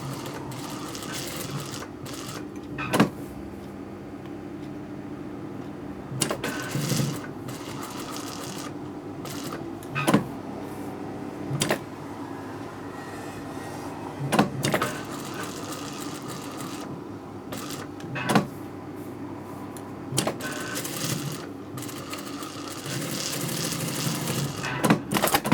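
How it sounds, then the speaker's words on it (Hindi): Sewing machine stitching the turned hem of a salwar kurta, a steady low mechanical whir broken by sharp clicks about every four seconds, close and moderately loud, with no talking. "और यहाँ जब टर्निंग कर लिए तो उस पर जो है सिलाई लगाते हैं।"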